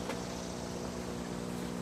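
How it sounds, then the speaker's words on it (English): An air pump runs steadily beside a charging station, a constant buzzing hum with strong low tonal lines and no pauses, close and even throughout. "The noise you hear in the background is our air pump"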